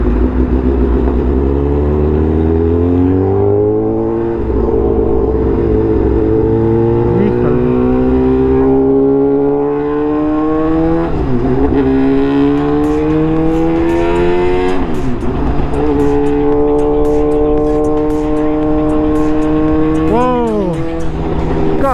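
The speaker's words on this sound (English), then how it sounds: "It's gonna sound like that because of the exhaust." A tuned Suzuki GSX-R1000R with a loud aftermarket exhaust roars up through the gears in city traffic, engine pitch climbing and dropping sharply at each quick shift, close and loud, with a rider's voice now and then over it.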